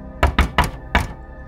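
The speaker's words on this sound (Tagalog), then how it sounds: "Halos malaglag ang puso ko nung biglang may kumatok sa aking bintana." Four hollow knocks strike a car window, three in quick succession and then a fourth after a short pause, each close and loud against a quiet background.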